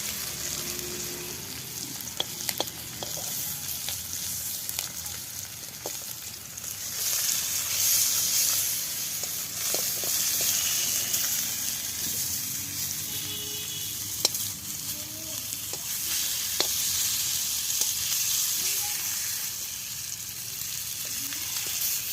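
Koi fish sizzle steadily in hot oil, a continuous close frying hiss with occasional pops and stirring clicks throughout.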